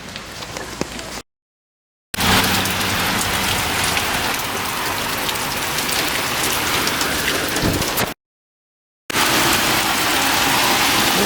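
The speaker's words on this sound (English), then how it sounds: "You can see the hail coming down. It's still hailing." Heavy hail pounds down outdoors in Santa Monica, California, a loud, dense, steady roar of impacts that continues unbroken apart from two brief gaps in the recording.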